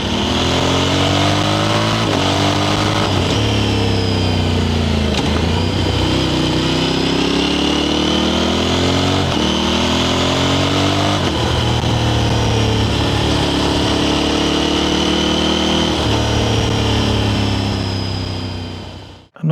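Motorcycle engine recorded from a mic placed under the pillion grab, running loud and close for nearly twenty seconds, with repeated revs rising and falling between steadier idling stretches before it suddenly cuts off.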